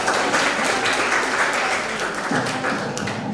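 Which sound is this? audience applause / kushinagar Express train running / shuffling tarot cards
audience applause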